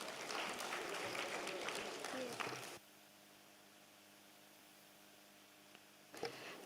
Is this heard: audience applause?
yes